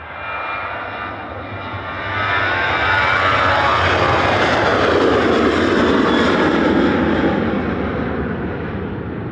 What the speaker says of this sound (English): This is Ryanair to Katowice.